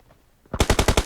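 Automatic gunfire from the video game PUBG Mobile rattles out as a rapid, loud burst of about six evenly spaced shots after a brief quiet moment.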